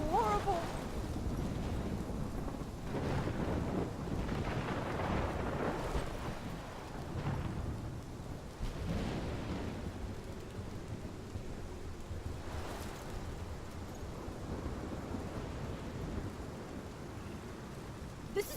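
A thunderstorm in Life is Strange rumbles with heavy rain pouring steadily and rolling thunder swelling and fading across the whole stretch, loud and close, with a few brief bright cracks.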